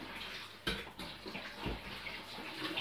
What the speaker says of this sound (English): just normal tap water